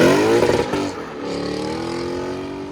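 A 2022-2025 Lexus IS 500 with a 5.0L V8 and aftermarket axle-back exhaust, valves open, revving loudly nearby: a deep rising roar that peaks, drops away and then settles into a lower, steady droning rumble.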